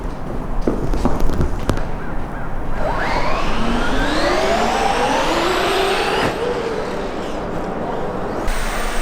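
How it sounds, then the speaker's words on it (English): Trucks pass in the background near a parked Audi B8.5 S4, a steady road rumble with a rising engine whine building and fading over several seconds, moderately loud with no talking. "you can hear those trucks in the background"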